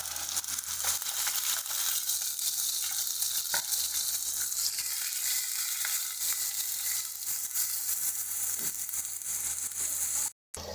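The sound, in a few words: onion paste frying with whole spices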